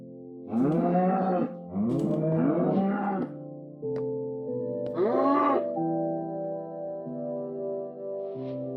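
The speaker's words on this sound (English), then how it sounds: "there's a bunch of cows. I could breed them now." Cows moo in the video game Minecraft, several drawn-out groaning calls in a row, some overlapping, loud and close, followed by lower lingering tones, with no talk.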